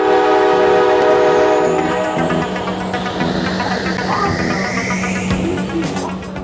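A train sound effect plays as a membership alert, with a sustained horn-like chord at first, then a rumbling, clattering run of rail cars that continues alone and fairly loud to the end.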